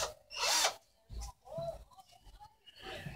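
A power drill whirs in a short high-pitched burst, drilling a hole in a reinforced concrete fallout shelter, followed by quieter clunks and a voice speaking nearby.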